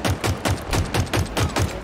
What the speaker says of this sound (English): I'm following you around with my assault rifle, Landon